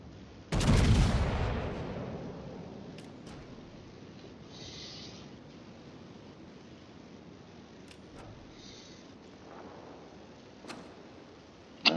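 Battleship rear gun turrets firing in World of Warships, one heavy booming salvo early on that rolls off into a long fading rumble, followed by faint distant pops and a sharp crack at the end.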